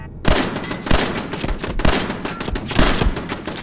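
Turrets in the game Fallout 4 fire rapid, loud bursts of gunshots close by. The volleys repeat roughly every half second over a few seconds, with no voice heard.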